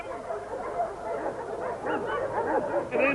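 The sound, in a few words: working farm dog barking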